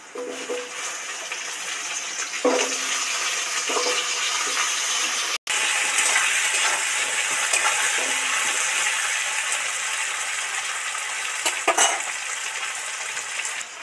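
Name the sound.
frying taro pieces in a pan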